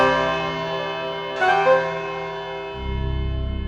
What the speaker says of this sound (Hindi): 5 सेकंड में 5 बजे की घंटी बजने वाली हो